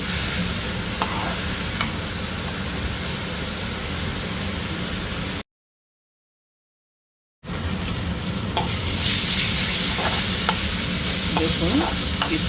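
Helencha leaves and eggplant fry in a pan with a continuous close sizzle and occasional stirring scrapes, broken by a short silent gap.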